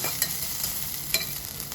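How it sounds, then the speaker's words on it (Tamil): Sliced onions and two green chillies sauté quietly in a pan for prawn vermicelli biryani, giving a soft steady sizzle with a couple of brief scraping stirs. "2 பச்சை மிளகாய் நல்லா வதக்கணும்."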